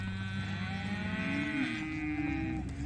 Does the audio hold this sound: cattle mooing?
yes